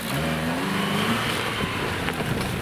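A lowered off-road Chevrolet fitted with two locking differentials and a transfer case accelerates close by during a timed run, its engine note rising then dropping with shifts and strain over rough ground.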